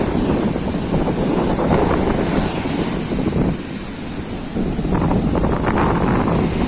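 Loud, steady roar of sea surf at Shankarpur beach on a rough afternoon, waves rolling in from far out with continuous wind buffeting the microphone, a brief dip before the crashing swell builds again.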